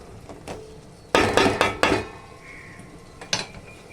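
A lid set onto a pan of frying tomatoes with onions and green chillies, several close metallic clanks and knocks in a quick cluster, then one more clatter, with no talk.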